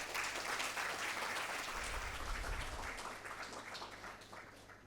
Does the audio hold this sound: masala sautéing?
no